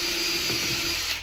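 Power drill boring into wood while building a sturdy bench: a steady, loud, whirring motor drone with a constant pitch, heard up close and continuously with no talk.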